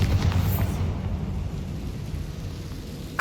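Bombarda blast spell in Hogwarts Legacy, a deep rumbling boom that swells and decays over a few seconds, with a brief sharp burst at the end, no voices present.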